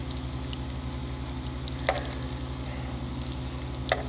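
Breaded, rehydrated freeze-dried pork loin fries in grease with a steady, close, continuous sizzle. Two brief sharp pops or taps sound about two seconds apart, and no one speaks.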